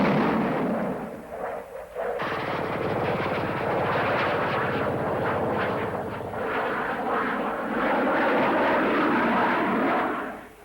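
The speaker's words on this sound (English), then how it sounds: "With Jaguar, I find that one can fly close to the ground with much more confidence." SEPECAT Jaguar jet aircraft flying low and fast, a loud continuous broadband roar that swells sharply after a brief quieter start and holds strong throughout, with no voices.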